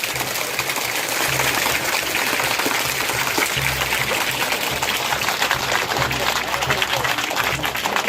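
Students and audience clap at a government senior secondary school's annual function in Nandiya Jajara. The dense, steady patter runs throughout the clip, with voices mixed in.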